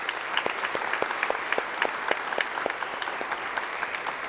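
A church congregation gives a special round of applause to a minister, dense and continuous clapping with sharp individual claps standing out, close and lively throughout.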